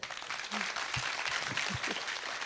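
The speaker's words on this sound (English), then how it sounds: "Let's clap for them." A live audience at an India STEM summit claps in steady, dense applause across the whole stretch, fairly loud and close, with a few faint voices underneath.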